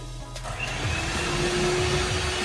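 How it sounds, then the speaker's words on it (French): An electric hand mixer beating batter, with a loud, steady motor whine that starts just after a short pause and runs on throughout. "Je vais vite, regardez, hop, le batteur est là."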